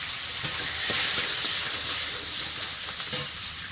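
Whole cumin and garlic fry in oil in a wok, giving a steady close hiss and crackle of sizzling with faint stirring taps throughout.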